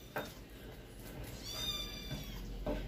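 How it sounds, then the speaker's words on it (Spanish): Several house cats meow indoors, with a few short, faint cries and one longer drawn-out meow in the middle against quiet household background. "Ven, sácame estos gatos, por favor."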